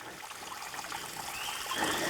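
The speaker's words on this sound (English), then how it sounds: "is not much of a waterfall, no doubt about it" A small creek waterfall at Cane Creek Preserve in north Alabama trickles and splashes steadily, growing slightly louder toward the end, with no one speaking.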